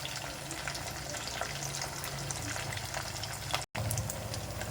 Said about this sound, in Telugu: వేయించుకునేటప్పుడు కొంచెం ఎడంగా ఉండి వేయించుకోవాలండి. ఎందుకంటే చిట్టపట్లాడుతూ ఉంటుందండి